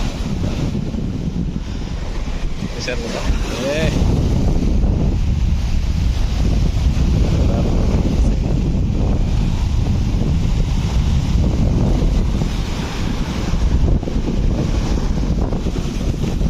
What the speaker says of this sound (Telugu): గాలి ఫుల్గా ఉంది ఫ్రెండ్స్